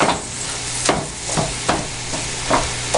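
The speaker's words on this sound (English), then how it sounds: "You want that butter and the grease that's going to come out of this sausage all to work together." Sausage fries in butter in a pan for breakfast, giving a steady close sizzle broken every half second or so by sharp scraping taps as the meat is stirred and broken up.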